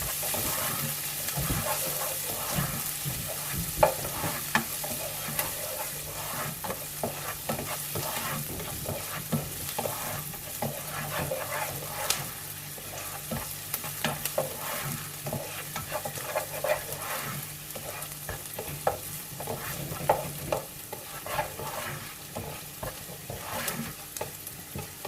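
Onions gently sautéing in a pan for a chicken pie, a continuous soft sizzle with intermittent stirring scrapes throughout, fairly quiet and close, no talking.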